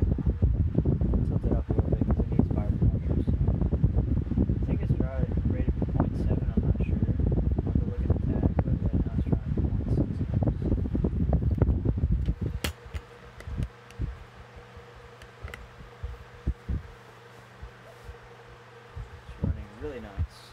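A 10-inch Emerson Seabreeze electric fan runs with a steady, close whooshing roar for about twelve seconds. The sound then drops to a much quieter hum with scattered faint clicks.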